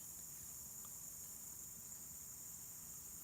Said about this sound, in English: I bet you it's a mosquito you're hearing.